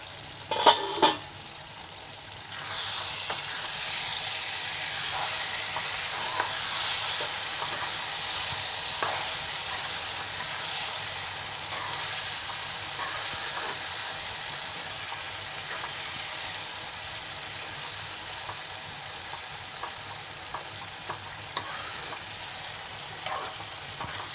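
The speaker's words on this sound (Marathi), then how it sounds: "आता मी खोलून बघते, जरा हलवते." Chicken biryani meat stirring and frying in a pot, a steady sizzle running throughout with scraping stir strokes, loudest at the start and then settling into a continuous close frying hiss.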